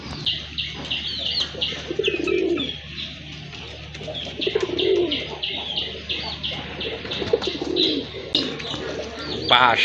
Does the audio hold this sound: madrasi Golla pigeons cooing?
yes